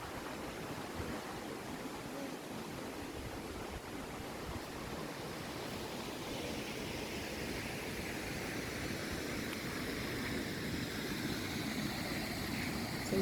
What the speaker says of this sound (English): That noise is the fall.